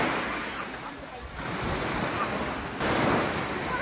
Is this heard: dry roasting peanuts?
no